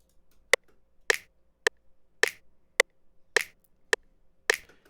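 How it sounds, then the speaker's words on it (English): Crisp finger snaps repeat in an even groove, about two per second, each short and bright, with some snaps slightly layered and fuller. "So the characteristics for a snap is that it is going like this."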